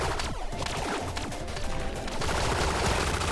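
Rapid SMG gunfire in the top-down shooter Relic Hunters Zero, dense bursts of rattling shots layered with crashes and effects, continuous and loud across the clip.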